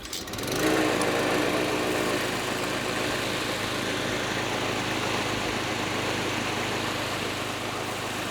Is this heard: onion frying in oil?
no